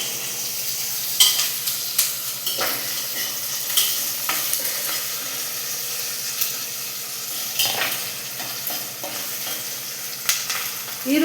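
Onions frying in a pan for tomato biryani give a continuous sizzle. Stirring scrapes and utensil taps recur throughout, loud and close, with no talking.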